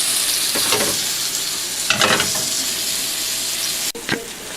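Onions coated in BBQ rub fry over a lowered flame, giving a steady close sizzle with a few brief bursts of louder crackle as they are stirred or shifted; no one speaks.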